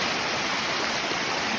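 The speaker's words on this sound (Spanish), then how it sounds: "para poderles compartir esta maravillosa cascada" Steady broadband roar of a waterfall at Laguna Brava, a continuous rushing wash of falling water close by with no voices over it.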